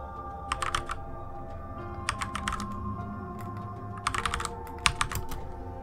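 Fast bursts of typing on a computer keyboard, close and crisp, in several clusters of rapid clicks over a low steady background hum.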